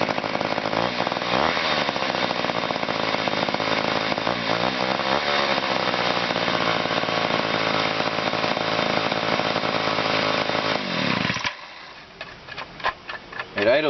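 A chainsaw engine runs at a steady high idle, set too high, for a long stretch, loud and close, then cuts out, leaving faint clicks and handling noises.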